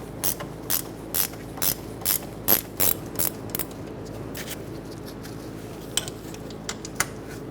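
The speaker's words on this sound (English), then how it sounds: "Take out the bottom bolt." A ratchet wrench loosens the bottom brake caliper bolt on a 2004-2009 Mazda 3. A run of sharp, evenly spaced ratcheting clicks is heard close up, followed after a pause by a few scattered clicks.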